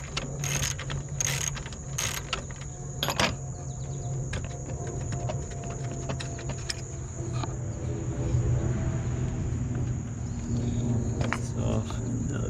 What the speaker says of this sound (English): Take this mounting bolt loose.